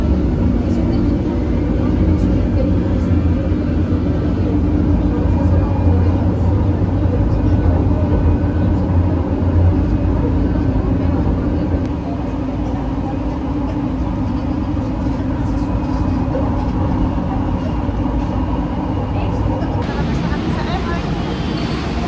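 Steady low rumble of an MRT train in motion, heard from inside the car, with broadband rail and cabin noise throughout. Passengers talk quietly over it.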